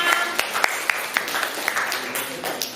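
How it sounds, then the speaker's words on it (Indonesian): Applause for group 6 at a teachers' academic supervision session, a dense crowd of claps filling the room with some sharp individual claps standing out, steady throughout with a little voice mixed in. "Terima kasih aplaus juga untuk kelompok 6"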